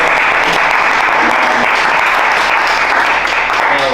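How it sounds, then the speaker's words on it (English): A town council meeting audience gives a round of applause, a loud, dense and continuous clapping from a room of people that lasts throughout. "I think we'll give you a round of applause."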